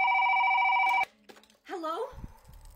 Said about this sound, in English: How is it ringing?